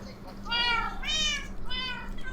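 Three cat meows from Minecraft sound in succession, clear and drawn-out with a plaintive pitch, over a faint steady background hum.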